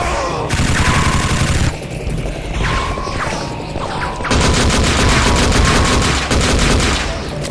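Bursts of automatic gunfire in the shooter game Gore, loud and dense, rattling in sustained volleys with brief gaps and mechanical clatter between them, no voices.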